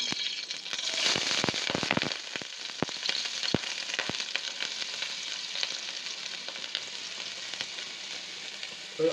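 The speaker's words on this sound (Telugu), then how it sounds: "సన్నగా కట్ చేసి పెట్టుకున్న ఉల్లిపాయలు వేస్తున్నాను దీంట్లో" Thinly sliced onions drop into well-heated oil for dhaba-style chicken curry, setting off a loud, close sizzle with a burst of sharp crackles early on that settles into a steady frying hiss. No one speaks.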